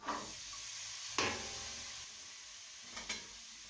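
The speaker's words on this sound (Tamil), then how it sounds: "பொடியாக நறுக்கின காய்கறி எல்லாத்தையும் சேர்த்துடலாம்" Chopped vegetables hit hot masala in a pan for a hotel-style veg kurma, giving a soft continuous sizzle, with a couple of sharper stirring scrapes and clatters standing out along the way.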